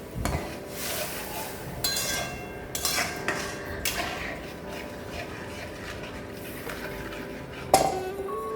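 A spoon clinks and scrapes against a metal pot while evaporated milk is stirred for a Janmashtami sweet, with irregular light knocks and one sharper clink near the end over a quiet kitchen background.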